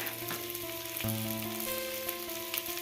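Potatoes sizzle and fry in a pan for sabudana khichdi, a steady close crackling hiss with light stirring scrapes and a faint background hum.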